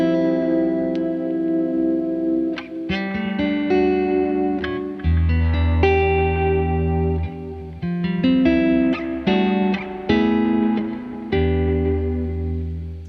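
A PJD electric guitar is played with a gritty Texan blues tone, with ringing chords and bluesy single-note phrases that carry steadily and alone.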